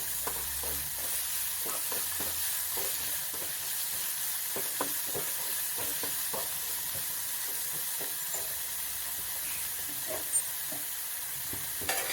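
Salted onions soften in a hot pan with a continuous, even sizzle, punctuated by regular light scrapes and taps of stirring, steady and close throughout with no voices.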